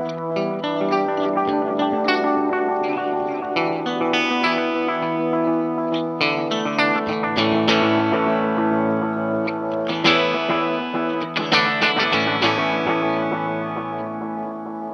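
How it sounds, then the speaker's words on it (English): Fender Stratocaster through a Vox AC30 with a Deluxe Memory Boy analog delay pedal, a continuous played guitar line with darker repeating echoes and chorus-like wobble, close and alone. "let's start with the Memory Boy"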